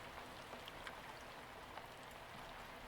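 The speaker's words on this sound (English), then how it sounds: "I feel like the rain would be a little loud." Steady, soft rain patters down in a quiet indoor setting, with faint scattered droplet ticks over a constant gentle hiss, heard alone without voices.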